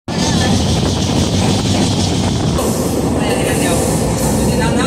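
Loud, steady rumble and rattle of a train on a long-distance journey across India, heard from inside the carriage with continuous wheel and track noise.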